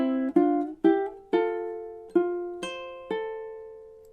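Ukulele notes are plucked one at a time in an even pattern of seven clear, ringing tones, each fading before the next in a gentle melody, played alone and close.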